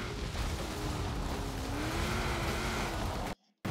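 A 1995 Mitsubishi Eclipse in Forza Horizon 4 drives across a spring field, its engine a steady droning hum with slowly rising pitch before cutting out abruptly near the end.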